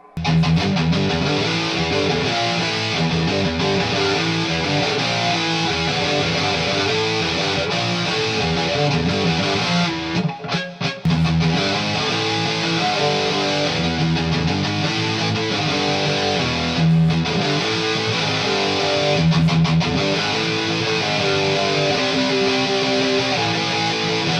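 An electric guitar runs through a Boss Metal Zone pedal into a Quilter 101 Reverb Mini Head amp, chugging out loud, dense distorted riffs almost without pause, with one brief break in the middle.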